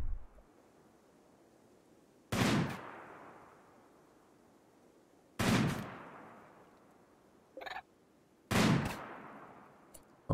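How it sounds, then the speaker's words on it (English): Colonists firing guns in RimWorld: three sharp, loud gunshots spaced a few seconds apart, each trailing into a short fading tail, with a smaller crack in between and faint background hiss, no voices. "Well, they're shooting at it."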